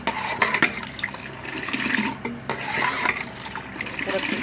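Milk poured from a height into a bowl of whisked curd to froth it, a close splashing gurgle that swells and dips unevenly over a few seconds.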